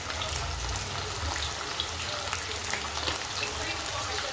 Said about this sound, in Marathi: आता थोडं जास्त तेल घातले तर बघा भरपूर सारे त्याच्यामध्ये आपल्याला पीस सोडता येतील